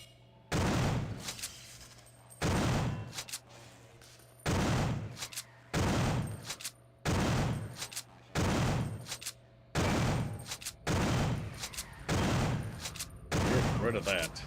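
Repeated loud bursts of gunfire from the video game System Shock 2, about eight evenly spaced volleys, each sharp onset with a decaying tail, close and dominant over a low steady hum.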